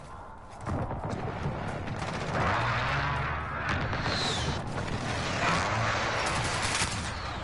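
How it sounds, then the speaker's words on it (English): A precision airstrike in Call of Duty: a dense, continuous roar of rapid blasts and rumbling explosions rises after a quieter opening and keeps on steadily, loud and full, with no talk. "Enemy precision airstrike"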